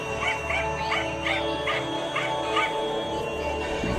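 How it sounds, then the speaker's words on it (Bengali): A cartoon dog yips and barks in a quick, regular series of short calls over a steady background of music and hum. "বাড়ির পেছন থেকে কুকুরের ঘেউ ঘেউ শব্দ শোনা যাচ্ছে।"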